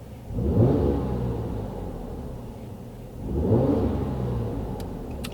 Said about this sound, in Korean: 실내에서 제가 좀 악셀을 살짝 밟아 볼게요